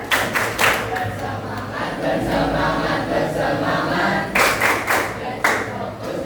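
A classroom of students claps out a rhythmic learning clap chant, sharp bursts of hand claps grouped in quick patterns, with chanting voices and crowd noise between the claps and a spoken voice at the end.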